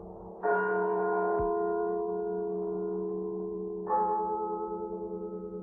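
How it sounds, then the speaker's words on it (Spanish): Two deep church bell strikes a few seconds apart, tolling for the dead, each ringing out with a long, humming decay that fades slowly. "me despertó a no sé qué hora, el doble de las campanas."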